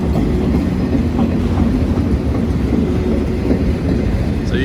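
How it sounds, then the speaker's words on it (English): A long freight train of four-axle cars rumbles past close by on a bridge, a heavy continuous roar with rhythmic clickety-clack of wheels over rail joints. "Each one of these cars on this train has 4 axles."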